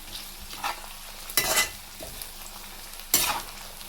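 Green chilies, curry leaves, ginger and garlic are stir-fried in a pan, with a few sharp scraping and sizzling bursts from the spatula between quieter stretches of frying.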